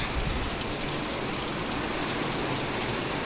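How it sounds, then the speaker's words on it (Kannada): Heavy rain pours down steadily, a dense, constant hiss of drops hammering surfaces with no pauses and no voices. "ಫುಲ್ ಜೋರಾಗಿ ಆಗೋಯ್ತು ಮಳೆ"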